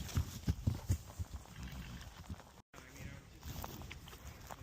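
Donkey hooves moving with a running herd clop sharply and close in a quick burst, then give way to softer, scattered steps and rustling, with faint voices mixed in.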